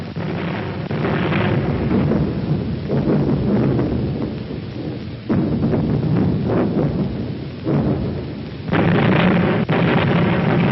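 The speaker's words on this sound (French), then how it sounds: "La batterie ouvre un feu de barrage intense" An anti-aircraft battery fires an intense barrage in a 1940 wartime newsreel, heard as repeated loud, booming bursts and rumbling blasts in rapid clusters, dense and continuous with brief gaps, on an old band-limited recording.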